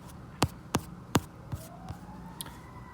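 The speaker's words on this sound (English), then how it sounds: "There's sirens outside." A siren wails faintly in the distance, rising slowly, while several sharp knocks sound close by.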